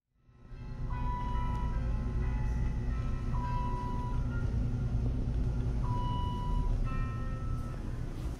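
Soft, steady background music plays inside an elevator cab, with sustained tones and occasional chime-like notes drifting over a constant low hum, continuous and moderately quiet throughout.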